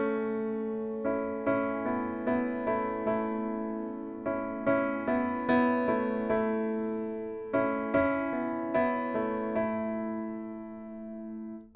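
Solo piano plays the opening pattern of a worship song, repeated syncopated chords entering on the off-beat in a steady, moderate rhythm, each chord struck and left to ring, close and clear with no talking.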